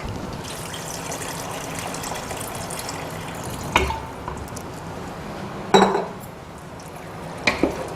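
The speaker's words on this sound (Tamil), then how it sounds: "ஸோ இப்போ பால் கொஞ்சம் ஊற்றிக்கலாங்க" Milk pours into pasta in a pan with a steady, close liquid trickle and gurgle, broken by a few sharp clanks of utensil against the pan.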